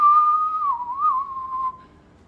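A single whistle tone holds for about two seconds at a steady pitch with slight wavering, loud and near, then fades out, with no talk over it.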